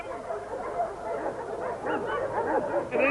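A working farm dog yips and whimpers in short excited bursts, fairly close, over an outdoor background.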